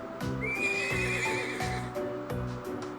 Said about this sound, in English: This horse recently arrived in the North Highlands. He's still young, so he hasn't quite grown accustomed to the stables yet.